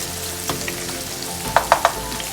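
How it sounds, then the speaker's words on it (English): Turkey bacon, garlic and sweet peppers fry in a pan with a soft steady sizzle, broken by a few sharp clicks of a utensil against the pan near the end. "So I'm letting the fat render down with the turkey bacon here, the garlic and the sweet peppers."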